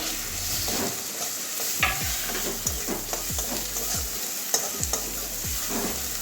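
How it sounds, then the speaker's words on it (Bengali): Chopped medium tomato frying in spiced oil for a kundri and potato curry, a steady sizzle broken by repeated spatula scrapes and stirring knocks at a fairly even, close pace. "এবারে টমেটো কুচি দিয়ে দিচ্ছি একটা মিডিয়াম সাইজের টমেটো"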